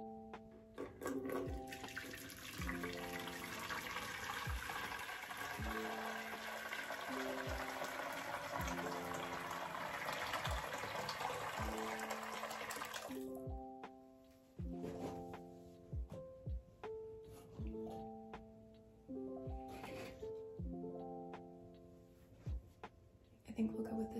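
A bathroom tap runs water in a steady, close stream for about thirteen seconds while soft background music plays, then shuts off, leaving the music alone.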